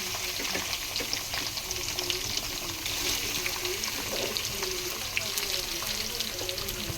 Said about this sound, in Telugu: సో ఈ టొమాటోస్ అనేది కూడా మనం బాగా డీప్ ఫ్రై అనేది బాగా చేసుకోవాలి